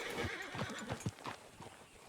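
Horse in Red Dead Redemption 2, a quick series of clip-clop hoofbeats with a short whinny mixed in, fairly faint and close over about two seconds.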